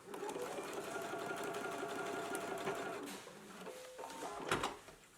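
Sewing machine runs a steady straight seam across a dress facing at 5/8 inch for McCall's M8384, a continuous close whir for about three seconds, then slows into a few short bursts and stops.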